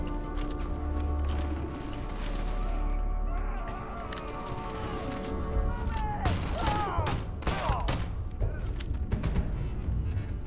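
Gunfire from a weapon in the video game Starfield, with sharp repeated shots and bursts over steady game music and ambience. Low rumbling and crashes are mixed in, and a voice talks intermittently.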